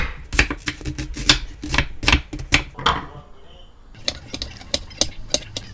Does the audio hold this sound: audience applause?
no